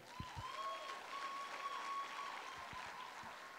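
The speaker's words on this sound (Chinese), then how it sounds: "这样我们就一个热烈掌声开始今天的课题" Applause from a seminar audience, a broad steady wash of many hands clapping, somewhat distant and even, with a few low thumps near the microphone.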